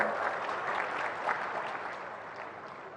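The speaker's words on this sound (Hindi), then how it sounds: "एक बार जोरदार ताली हो जाएगी।" Crowd applause at an agricultural fair and exhibition inauguration in India, a steady wash of clapping from a large audience heard at moderate distance, gradually fading.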